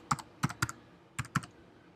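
Keystrokes on a computer keyboard come in two short bursts of three quick clicks each, close and clear against a quiet background.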